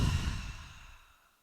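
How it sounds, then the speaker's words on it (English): A full breath exhaled through the mouth during yoga breathing, a soft close airy sigh that fades steadily over about a second and a half, alone with no talking. "let us exhale with a full breath out of the mouth"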